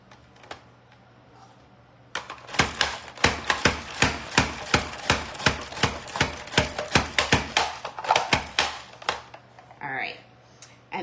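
Rapid series of crisp slicing clacks as vegetables are cut on a mandoline slicer at its number 3 thin setting, about twenty sharp strokes in steady rhythm, close and fairly loud, with no talk.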